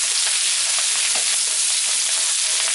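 Brussels sprouts sizzle and crackle in a pan of oil and bacon fat, a steady close frying hiss with small pops, no voices.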